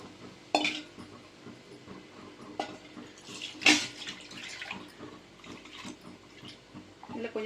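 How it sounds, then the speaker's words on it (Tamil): Water poured into a cooking pot with intermittent splashing, alongside a few sharp clinks of metal utensils against the pot, close by. "தண்ணி சேர்த்துக்கிறேன்."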